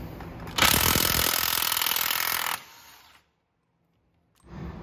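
Loud burst of an impact wrench removing the axle nut on a 1990 Honda CRX Si, a sustained rattling hammer lasting about two seconds, then a brief quieter whir, silence, and faint workshop noise returning.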